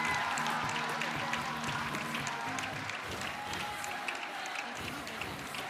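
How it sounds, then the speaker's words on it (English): An audience at a girl child summit applauds a winner, with sustained, moderately distant clapping and crowd noise filling the space throughout. "Let's clap for her, please."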